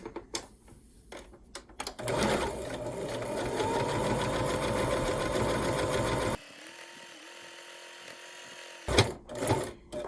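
Sewing machine stitching through quilted fabric layers, one sustained burst of fast rhythmic mechanical whirring for several seconds, then a quieter lull and brief handling clatter, close by.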